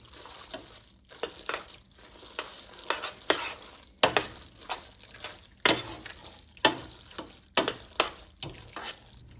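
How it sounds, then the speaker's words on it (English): Tuna mac ingredients being stirred in a pot, with repeated spoon scrapes and clinks over a soft sizzle, arriving in irregular bursts, close and moderately quiet with no talk. "And we stir that in. Until it's completely incorporated."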